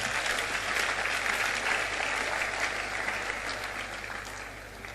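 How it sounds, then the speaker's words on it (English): An audience at a talk on entrepreneurship and leadership claps for themselves in a sustained, even roar of applause from a large crowd that fades slightly toward the end. "Clap for yourself."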